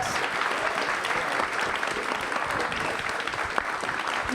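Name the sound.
audience applause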